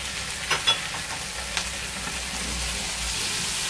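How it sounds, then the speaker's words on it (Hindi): Chicken for a pizza samosa filling is stirred and fried in a pan, a steady soft sizzle with a few light spoon clinks and scrapes early on, fairly quiet and close. "चिकन डालने के बाद इसको अच्छे से मिक्स करेंगे"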